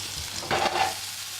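Tiger prawns hitting hot oil in a pan, a short burst of sizzle and a scrape as they land, close and moderately loud, then a faint steady hiss with no talking.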